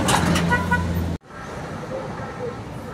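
Buses at the Suzantur bus garage in Santo André, a busy rumble of engines and traffic with a short horn toot early on, then a steadier mid-distance hum of idling vehicles.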